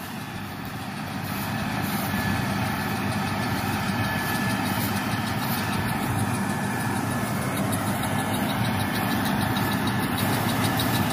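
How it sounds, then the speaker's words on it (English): A tractor pulls a round baler over a windrow, its engine giving a loud, steady, close drone that holds unbroken throughout with no talking. "So he just kind of drives over top the windrow and it sucks it up into the baler."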